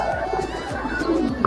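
Pigeons cooing at a racing loft during a pigeon race tournament, soft repeated coos over a steady, dense outdoor background.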